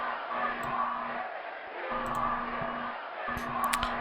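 Crowd ambience from the Strat-O-Matic PC baseball video game, a 1973 opening-day matchup of Kansas City at California, murmurs quietly at low volume, with a steady hum and a few faint clicks and cheers over it.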